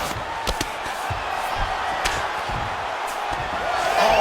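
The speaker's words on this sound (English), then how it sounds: "big pop from the crowd as they get back to their feet" Arena crowd at a UFC fight roars and cheers in a sustained, swelling wash with scattered sharp slaps and thuds, rising toward the end.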